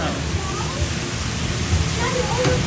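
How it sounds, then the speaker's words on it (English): Steady rushing of hot natural spring water flowing at the Roman Baths in Bath, a continuous close wash of noise with rain falling and family voices chattering faintly around it. "ये पानी आ रहा है."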